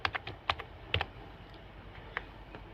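Typing on a computer keyboard, a quick irregular series of crisp close key clicks, some louder taps among softer ones, with no speech.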